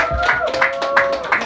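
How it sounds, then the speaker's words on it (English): At a Brooklyn candidates forum, a small audience claps for a City Council candidate, with individual claps standing out in a loose rhythm against a faint steady tone. "Round of applause."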